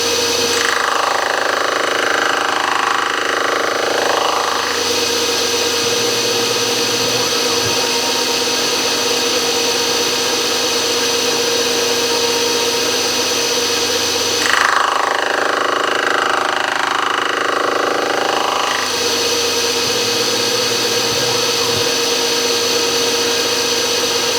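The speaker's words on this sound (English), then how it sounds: "Sounds almost like I need to sharpen that cutter." A gear cutting machine's cutter works through a large gear, giving a loud, steady mechanical grinding drone with no speech.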